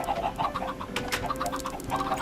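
Chicken in Minecraft clucking in a quick series of short repeated calls, moderately close over a busy game background with no talk.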